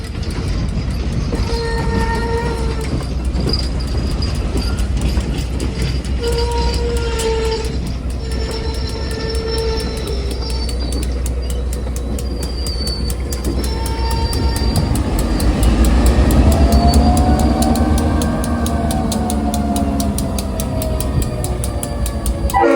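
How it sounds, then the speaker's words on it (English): A museum train at the North Carolina Transportation Museum rolls steadily into the station, its wheels and cars rumbling continuously, with high squealing brake and wheel tones rising as it slows and comes to a stop. "Now that the train's in the station, let's climb aboard."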